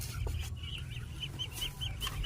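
Ducks in an egg-collecting area quack and chatter in a rapid series of short calls over a low rumbling background, close and moderately loud.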